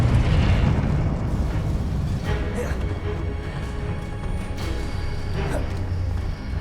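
A Confringo fire spell explodes in the Hogwarts Legacy video game, a loud, sustained rumbling blast with a few sharper bursts layered over a constant heavy low roar.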